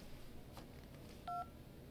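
Touch-tone dialing in the video game Syberia 2, a single short two-tone DTMF beep over a faint, steady background hum.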